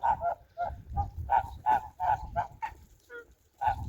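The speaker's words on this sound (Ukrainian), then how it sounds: "Молоденькі ось ті гусочки." A flock of young geese honks repeatedly in quick nasal calls, close and moderately loud, with overlapping voices and a brief lull near the end.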